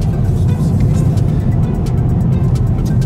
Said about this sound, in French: c'est un véhicule qui pousse quand même pas mal